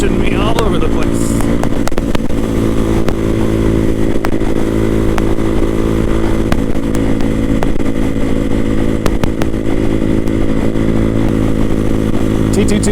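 A Yamaha TT250 dual-sport motorcycle cruises on a highway at about 65 mph, its engine droning steadily and loudly close to the microphone, with wind buffeting over it.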